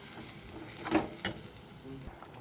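A paste of coriander, garlic, ginger, mustard and poppy seed sautéing with a splash of water in a pan: a faint low sizzle with a couple of brief scrapes and splashes.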